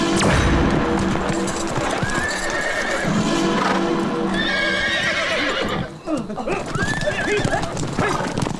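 Horses pulling a chariot in a Telugu fantasy film neigh loudly over clattering hooves as the chariot comes to a halt, with voices briefly mixed in.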